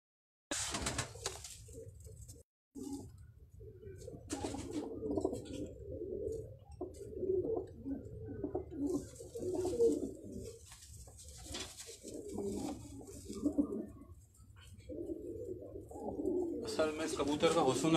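Large dewlapped show pigeons coo repeatedly on a rooftop in Karachi, deep gurgling phrases rising and falling close by, with someone talking over them throughout.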